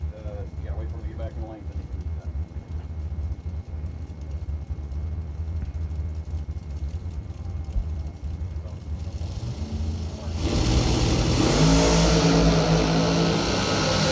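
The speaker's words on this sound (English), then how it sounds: "Ripping the throttle on the double breakout." Drag race cars at launch on a double breakout: a steady engine rumble under an announcer's voice builds into a sudden, loud roar of throttles ripped open near the end, with crowd and track noise around it.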